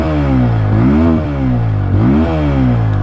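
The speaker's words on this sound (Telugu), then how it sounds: "ఎగ్జాస్ట్ సౌండ్ విన్నారు కదా" TVS Apache RTR 160 4V motorcycle engine revving through its exhaust, two sharp throttle blips rising and falling over a steady idle, loud and close.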